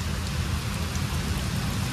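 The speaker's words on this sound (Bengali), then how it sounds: "খুব বৃষ্টি হচ্ছে" Heavy rain pours down in a steady, dense hiss with a low rumbling undertone, continuous and enveloping, with no voices.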